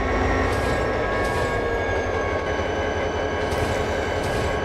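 A freight train rolling steadily in the Trainz 2010 simulator on a night run, a continuous loud low rumble of wheels and railcars with faint squeals and a constant droning hum, no voices.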